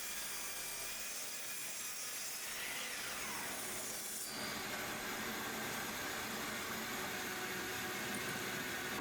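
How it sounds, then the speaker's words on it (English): A CNC machine cuts wood for American flag cutting boards in a workshop, giving a steady, loud grinding and rasping roar that shifts in pitch midway and runs continuously without talk. "I'm using my CNC machine to get the perfect cuts."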